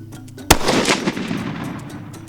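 A single loud rifle gunshot cracks out during a hunt, followed by a long rumbling echo that rolls away over a steady outdoor background.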